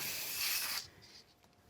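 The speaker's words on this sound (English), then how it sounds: "I'm going to add a little bit of spray glue." Spray adhesive is sprayed onto card at a papercraft desk as one close, steady hissing burst of just under a second. It cuts off abruptly, leaving a quiet room with a few faint soft taps and no talk.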